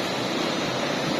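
A rushing meltwater stream fed by melting snow from Nanga Parbat, beside the mountain road, gives a steady, dense roar of flowing water with no break and no voices.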